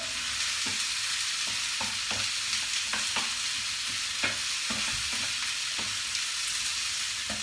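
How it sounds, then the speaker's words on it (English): Peppers and mushrooms fry in a pan with a continuous sizzle, while a utensil stirs them and scrapes and taps against the pan at irregular intervals. "put the peppers in, put the mushrooms in. Lovely. Going to give it a bit of a stir."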